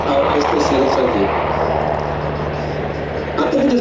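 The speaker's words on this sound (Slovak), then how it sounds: "Pilot zastavuje dopredu pohyb vrtuľníka tesne nad terénom flérov a vytráca výšku" A UH-60M Black Hawk helicopter of the Slovak Air Force lands in autorotation during a dynamic flight display at NATO Days in Ostrava, a steady loud rotor and engine roar filling the air beneath an announcer's voice.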